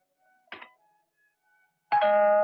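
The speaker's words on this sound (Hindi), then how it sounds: "मगर तुमने ये घंटी कैसे बजाई?" A single doorbell chime rings out loud and clear near the end, following a faint brief knock or click in a quiet room.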